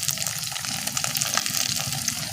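Small river fish and shrimp coated in flour fry in hot oil, giving a loud, dense, steady sizzle and crackle heard close up with no voices.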